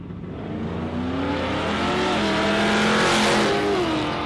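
A shoebox Chevrolet drag car at Warwick Dragway, racing in a road-trip drag challenge, roars down the strip. The engine note rises steadily and loudly as it accelerates, with no talk over it.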